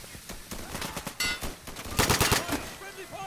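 Gunfire in the video game Insurgency: quick bursts of automatic shots and single cracks, loud and close, cutting through low background game noise.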